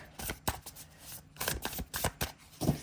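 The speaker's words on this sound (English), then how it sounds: "I'm just going to shuffle it up really quick." Tarot cards being shuffled by hand in quick bursts, crisp riffling and slapping close up, a few short rounds with brief pauses.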